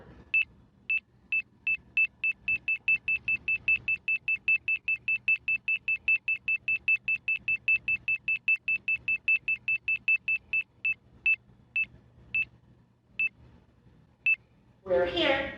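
A long run of short, high electronic beeps from an elevator as it moves between floors, starting rapid and steady then spacing out and slowing before stopping, over a low hum with a brief louder sound at the end.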